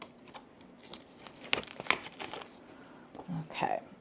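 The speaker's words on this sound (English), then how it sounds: "let's go ahead and just peel off all of our tape here" Adhesive tape being peeled off fabric while making a fall tea towel craft, with crinkling, ripping bursts and short strips pulled away at close range, plus a few brief murmurs in between.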